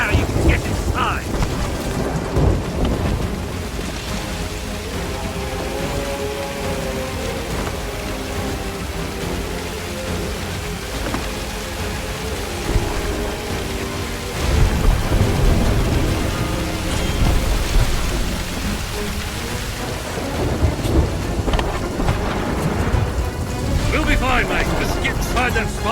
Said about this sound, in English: Calypso's lightning cracked the spire.